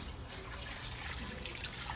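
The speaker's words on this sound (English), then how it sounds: "So let's just go ahead and pour this in." Hot tap water is poured into the tank of a Vevor ultrasonic cleaner, a steady close trickle and splash running throughout.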